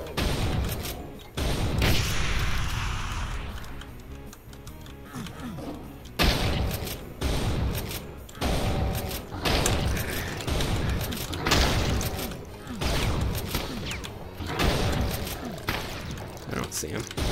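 Rapid enemy gunfire rattles and booms throughout a Brutal Doom shootout on level E1M4, with repeated bursts of shots and thuds arriving in clusters, loud and close, while someone talks intermittently over the fighting.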